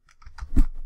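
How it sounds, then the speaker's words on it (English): Quick keystrokes on a computer keyboard, a short burst of soft clicks building to a louder cluster of taps near the end, close and alone with no talk. "I'm going to type in"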